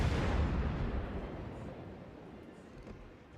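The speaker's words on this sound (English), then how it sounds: "More explosions." Naval combat in World of Warships brings a loud, rumbling explosion that booms at first and then slowly fades into a long, low roll of echoing blast noise.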